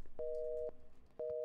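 A phone rings inside the Roblox horror game The Intruder: two long, steady electronic tone bursts with a short gap between them, loud and clear with no talk over them.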